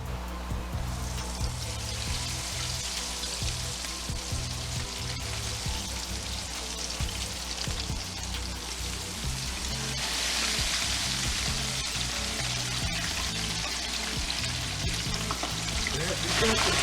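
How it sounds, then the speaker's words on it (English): Battered pieces of cod and flounder deep frying in a fryer, a steady broadband sizzle and crackle throughout, growing slightly louder partway through as more fish goes in. "Okay, let's get them in the batter. Get them in the fryer, some of that."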